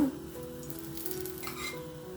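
Ghee sizzling on a rice roti in a pan over a medium flame, giving a steady, close frying hiss with soft crackles that carries on alone without any voices.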